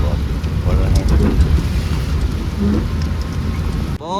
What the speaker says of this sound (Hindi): अभी बूंदाबांदी चालू है, धीरे धीरे बहुत बढ़ रहे हैं।